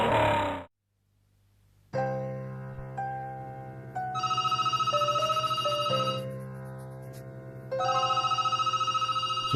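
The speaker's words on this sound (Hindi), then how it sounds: "दूसरा फोन भी एक का घंटे में 2-2 बेर बजे।" An office telephone rings with a repeating electronic ringtone, starting after a brief burst of noise and a quiet pause, then continuing in steady, loud pulsing bursts alone.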